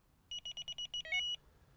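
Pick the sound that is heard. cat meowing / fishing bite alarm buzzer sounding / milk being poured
fishing bite alarm buzzer sounding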